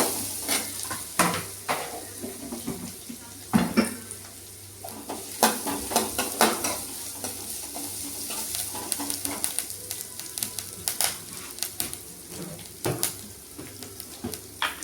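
Ingredients including vathal (sun-dried vegetables) sizzle steadily in a hot pan while a utensil stirs and scrapes against it in irregular clacks, close and fairly loud.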